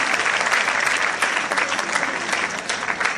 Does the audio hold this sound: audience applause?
yes